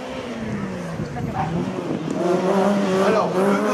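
A rally car at the Quettreville hill climb race, its engine note rising and falling steadily and growing louder near the end, with a rough roar passing close by and no clear talk.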